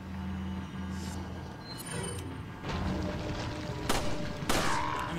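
Pistol shots from the video game Resident Evil 4, two sharp cracks about half a second apart over a low rumbling game ambience, fairly loud and close with no talk.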